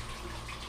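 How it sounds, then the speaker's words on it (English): A big pot of water at a rolling boil for a crawfish boil churns and bubbles with a steady, moderately quiet hiss and gurgle. "Dude, that water's boiling. It's moving."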